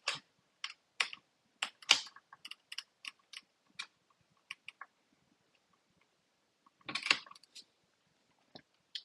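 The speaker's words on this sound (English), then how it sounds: "Oh, my keyboard is not working." A faulty computer keyboard clatters with irregular bursts of key clicks, a flurry at the start, sparse taps after, then a dense cluster near the end. It is close and fairly quiet, with no voices.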